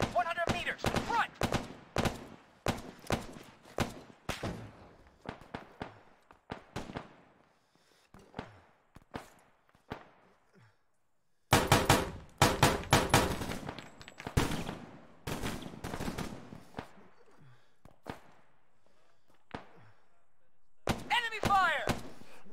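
Enemy gunfire in a military video game operation: rapid sharp shot bursts and repeated volleys, some near and loud, others more distant, with radio-style voices talking between the bursts.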